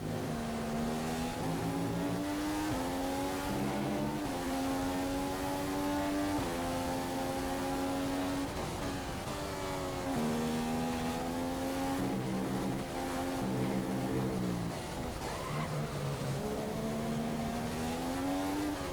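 Formula One race car engine in the F1 2015 video game screams continuously, rising and falling in pitch through repeated gear changes and throttle lifts, loud and steady throughout.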